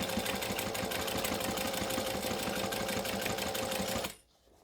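A sewing machine runs steadily and loudly as it stitches around the curve of a fabric bag, a dense mechanical whir with fast rhythmic needle clatter that cuts off abruptly near the end.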